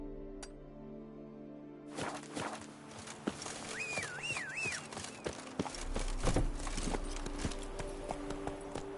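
Roach, the horse in The Witcher 3, clip-clops along in a steady run of hoofbeats, close and clear, with a brief whinny in the middle and quiet game ambience behind.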